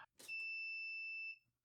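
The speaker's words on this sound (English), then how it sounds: "Actually, that should not be beeping in preheat." A powder coating oven's temperature controller, set up in a BBQ during preheat, gives a single sustained electronic beep lasting about a second, clear and alone after a brief rustle.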